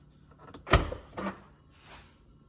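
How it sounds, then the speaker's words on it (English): A Tesla Model Y car door opens with a sharp latch click, then a softer second thump about half a second later and a faint rustle after. It is close and stands alone against quiet surroundings, with no talking. "Let's see what happens when I open the door again."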